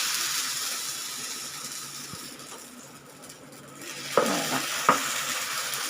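Bottle gourd dosa batter sizzles on a hot tawa in a steady hiss that dips and swells, then two sharp metallic clinks of a utensil near the end.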